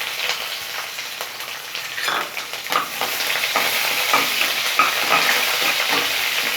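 Small onions and curry leaves frying in hot oil give a close, steady sizzle, with soft scrapes of stirring and a crackling hiss that swells slightly partway through.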